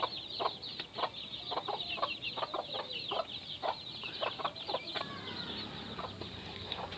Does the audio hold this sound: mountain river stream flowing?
no